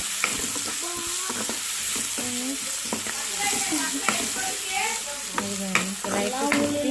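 Onion and tomato sizzle and fry in a pan, with a steady loud hiss and repeated scraping stirs. Faint voices and other background noise sit underneath.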